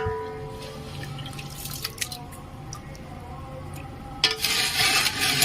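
Water is poured onto rice to soak, with soft drips and trickles close by before a louder splashing gush near the end, no speech.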